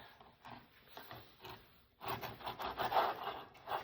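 A knife saws through a log of baked almond biscotti dough at an angle with close, rasping strokes, quiet at first and then a louder, faster run of scraping cuts.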